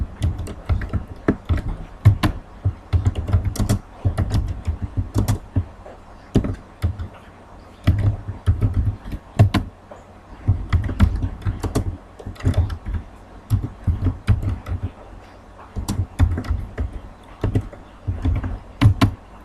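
Fast, steady typing on a computer keyboard while entering data into an Excel spreadsheet, with close, crisp key clicks coming in quick runs and only brief pauses.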